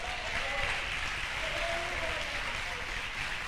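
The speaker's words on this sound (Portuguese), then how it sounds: "Aplauda o Senhor" Church congregation applauds together, a steady wash of clapping from many hands at moderate level, fairly even throughout with a faint voice underneath.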